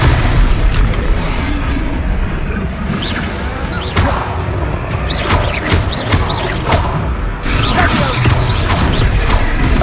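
Fiery Confringo spell blasts in Hogwarts Legacy, a dense chaotic battle with repeated booming bursts and crashes layered over continuous combat noise and music, loud throughout.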